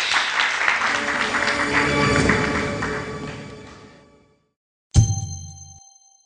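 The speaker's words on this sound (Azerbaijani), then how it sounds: "Alqışlar." A burst of clapping from a group fades out over a few seconds, followed by a sudden bright chime that rings and decays.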